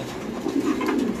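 Soft throaty cooing of a domestic pigeon held in the hand during a sale, a low rolling coo rising in the second half, close and clear with no speech over it.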